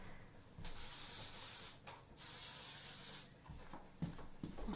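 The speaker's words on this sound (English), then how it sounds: "We have the disinfectant spray." Several hissing bursts of disinfectant spray inside a hair salon, each a second or so long and close to the mic, separated by short pauses and quiet handling noise.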